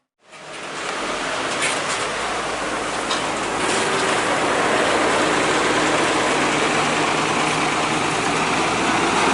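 A steady, loud engine drone runs throughout with broadband road-like noise, like a motor running nearby; no talking.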